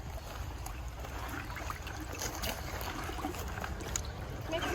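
A stream sample is stirred around in water, soft sloshing and trickling close by, with faint irregular splashes and gentle movement.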